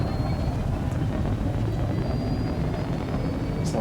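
A spaceship fighter engine at full throttle in Elite: Dangerous gives a deep, steady roaring rumble with a faint high whine, constant and loud throughout.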